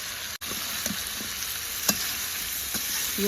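Duck meat frying in plenty of oil, a steady hiss and sizzle with scattered pops and stirring taps, close and moderately loud throughout.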